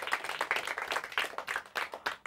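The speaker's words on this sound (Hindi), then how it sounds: "जोरदार तालियां इनके लिए भी।" Audience applause for the second-place team at a Hindi school quiz competition final, a steady burst of clapping from a hall crowd with brief peaks, no speech over it.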